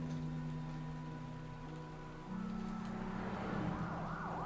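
Steady rain hiss fills a gloomy Gotham street scene in Telltale's Batman game, with a faint siren wailing and rising in the background over a low hum.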